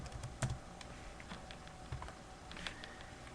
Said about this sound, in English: In the subject, we'll type something friendly like hello.